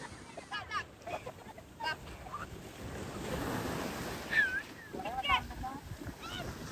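Ocean surf rolls onto a beach with a broad, steady wash and gusts of wind buffeting the microphone, while people talk nearby.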